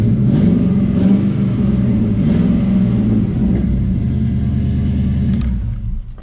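An Electric Red 1993 Ford Fox-body Mustang with an LS engine swap idling and revving up close, a deep, loud, continuous rumble with slight swells in pitch that eases off at the very end.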